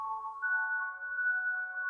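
A phone ringtone of a police call arriving at an office, a steady sustained electronic tone running unbroken for about two seconds, clear and alone with no talking.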